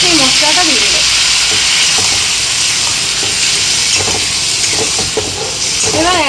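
Spice paste dropped into hot frying oil while cooking a vegetarian ol (elephant foot yam) dalna, giving a loud, steady hiss and sizzle that lasts throughout, with voices talking over it.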